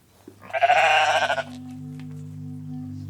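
A sheep in Iceland lets out one loud, close, wavering bleat lasting about a second, followed by a quiet low hum.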